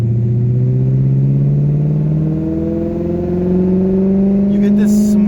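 BMW 540i E39 V8 exhaust at light throttle, a smooth, deep and steady rumble that rises slowly in pitch, heard close with someone talking over it.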